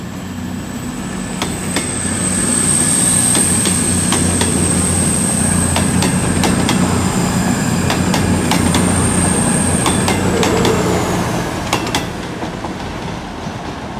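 A Class 221 Voyager diesel train rumbles past at steady volume, its engine drone swelling and fading over about fourteen seconds, with rhythmic clicks from the wheels and a high whine.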